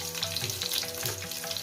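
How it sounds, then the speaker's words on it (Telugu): Long-sliced onion frying in a pan for Andhra-style sambar, a steady dense sizzle, close and continuous with no talk. "మనం ఇందులోకి ఒక పెద్ద ఆనియన్ని ఇలాగ పొడుగు ముక్కలుగా కట్ చేసుకున్న ఆనియన్ని వేసేయాలి"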